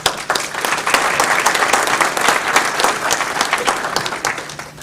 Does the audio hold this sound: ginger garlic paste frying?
no